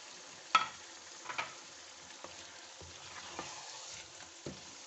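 One kilo of chicken frying with ginger garlic paste for kachnar gosht gives a soft, steady sizzle, with a few clinks and stirring scrapes in the pan and no talk.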